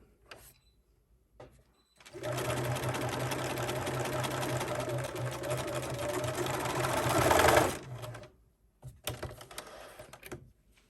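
A sewing machine stitching a quarter-inch seam, with a backstitch at the ends, on scrunchie fabric: a steady, fast mechanical whirring run of about six seconds, close and loud, framed by brief clicks and a shorter burst afterward.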